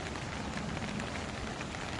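Steady rain falls on surfaces outdoors, a dense, even wash of hiss and patter that continues unbroken throughout, moderately loud with no voices.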